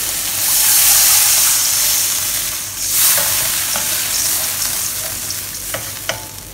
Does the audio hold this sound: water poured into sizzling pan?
yes